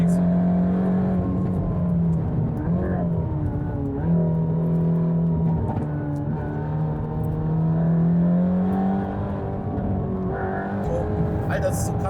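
A Mercedes-AMG GT Black Series with 880 PS holds a steady, loud engine drone at speed on the Nordschleife, its pitch shifting slightly through corners, with people talking in the cabin over it.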